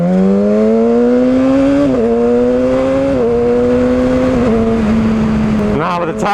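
A Yamaha R6 motorcycle engine revs loud and close, its high whine climbing steadily through several gear changes, with a brief dip in pitch at each shift.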